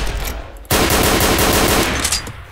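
Rapid automatic gunfire in the video game Garry's Mod, a loud sustained burst of evenly spaced shots that starts abruptly and runs for nearly two seconds.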